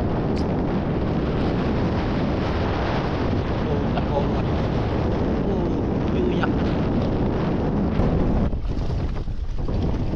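Strong wind gusting over water while a boat is hauling fish traps in a storm, a steady loud rushing roar with buffeting microphone noise throughout, no clear talk.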